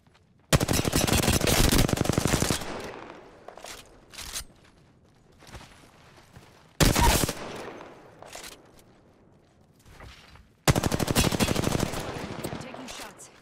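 Bursts of automatic gunfire in Apex Legends, three loud sustained volleys separated by quieter stretches of scattered single shots and movement sounds.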